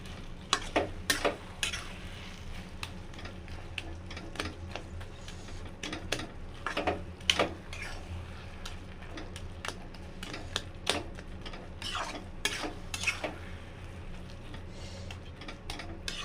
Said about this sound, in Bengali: এবার লেবুটা দিয়ে আমি আর একটু নেড়ে চেড়ে নেবো